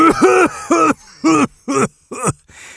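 A voice imitates a post-bong-hit coughing fit: five or six rhythmic, throaty, honking bursts close to the microphone, separated by short pauses.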